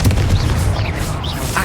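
A Confringo fire spell from Hogwarts Legacy goes off with a loud, close, booming blast, followed by a rumbling tail and brief whooshing magical tones, with no speech.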